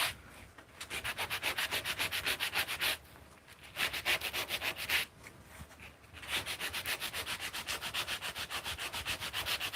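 Sandpaper is worked back and forth by hand in rapid, even strokes, a close, steady scratchy rasp broken by two brief pauses.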